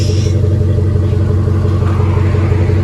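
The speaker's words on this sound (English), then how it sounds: "That's what them thrush sound like." Deep, throaty exhaust from a RAM 1500 with a 5.7L HEMI V8 and a Thrush muffler, a loud steady low rumble heard up close without talk.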